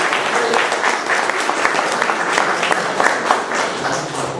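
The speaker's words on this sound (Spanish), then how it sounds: "Nuevamente un aplauso al arqueólogo." Applause fills a lecture hall for an archaeologist after a talk on the Tiahuanaco in Cusco, a dense, steady patter of many hands that stays loud and even throughout, with a few faint voices mixed in.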